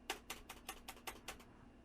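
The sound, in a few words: typing on a mechanical computer keyboard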